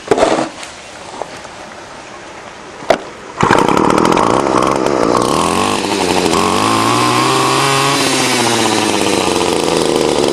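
A repaired gas string trimmer with new fuel lines and a cleaned carburetor sputters through a few pull attempts, then fires and settles into a loud, steady two-stroke whine that keeps running.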